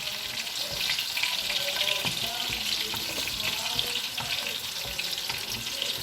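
Rice simmering in a pot, a steady hiss of bubbling water with light crackles and occasional clinks, no one talking.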